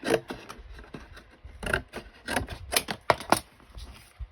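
Paper being cut by hand for a homemade garden journal, a series of crisp rasping snips and slides in uneven bursts, close and fairly quiet, with no talking.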